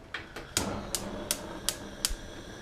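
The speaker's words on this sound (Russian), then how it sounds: "теперь включаю газ." About seven evenly spaced sharp clicks come close and fairly quiet as the gas burner of a smoker is lit for hot-smoking carp outdoors.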